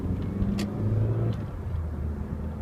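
An Opel Vectra accelerates in city traffic, its engine giving a low, steady rumble that rises slightly under throttle, heard from inside the car at moderate loudness.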